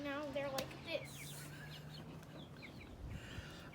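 Meat chickens on a home farm cluck and call briefly at the start, then fade into a low steady background hum as people talk over them.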